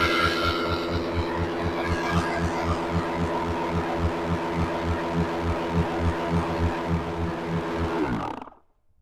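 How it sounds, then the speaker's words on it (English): An electric air pump inflates a dinghy with a steady, loud, throbbing drone and dense buzzing harmonics, running continuously for several seconds before cutting off abruptly near the end. "You heard the pump got a lot louder. The second pump, the high pressure pump, kicked on"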